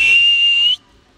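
A person gives one steady, shrill, high whistle lasting under a second to call free-flying pet birds outdoors, then it cuts off into near silence.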